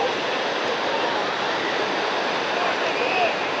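Rough sea waves break at Cabo Frio beach in a constant, loud, broad roar of surf that stays even throughout, heard from nearby with no distinct talk.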